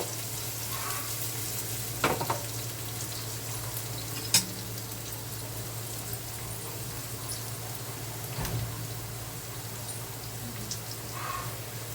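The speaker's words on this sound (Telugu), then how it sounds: "ఉల్లిపాయలు వేగనిద్దాం ఫ్రెండ్స్. ఉల్లిపాయలు వేగే ఫ్రెండ్స్." Onions sizzle steadily in a pan while a curry of gram flour is made to go with puris, a constant fizzing bed broken by a few faint stirring clicks, with no voices.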